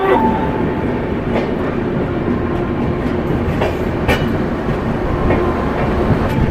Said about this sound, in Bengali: আসানসোল জংশন থেকে আমাদের ট্রেনটি ছেড়ে দিল